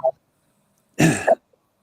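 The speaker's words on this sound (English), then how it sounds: "I'm clearing my throat" A short, harsh throat clearing near the microphone, preceded by a faint brief vocal sound and then quiet.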